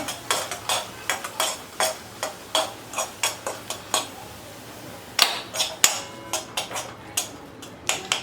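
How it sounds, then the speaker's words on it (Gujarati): A spoon scrapes and stirs thick jowar (sorghum) flour khichu batter in a pot, giving steady rhythmic close-up strokes about twice a second with a few sharper knocks near the end. "એકદમ સરસ રીતે આપણે હલાવી લેવાનો છે"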